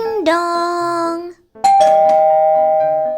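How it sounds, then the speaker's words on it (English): Two electronic doorbell chimes ring out in turn, a clear ding-dong and a sustained second tone after a brief silence, loud and close. "Ding dong."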